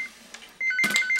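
A telephone rings indoors in a Korean TV drama scene, giving a short electronic trill after a quieter moment, close and fairly loud, with no speech.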